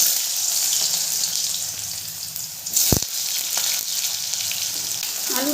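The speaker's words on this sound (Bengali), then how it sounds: "আলুটা একটু লাল লাল করে ভেজে নেব।" Cut potatoes fry in hot mustard oil with black cumin, a loud, continuous crackling sizzle with a sharp utensil knock midway, steady from start to finish.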